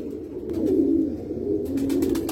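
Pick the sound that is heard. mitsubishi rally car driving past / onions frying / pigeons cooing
pigeons cooing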